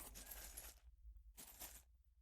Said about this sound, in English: Here's type 5 spells. I'm going to shuffle them.